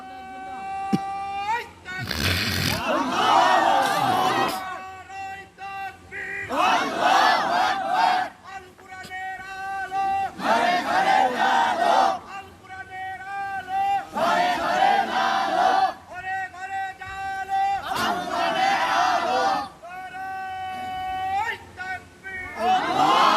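A large crowd at an Islamic religious sermon shouting the takbir slogan in loud repeated call-and-response bursts, with a single voice leading each call before the mass reply.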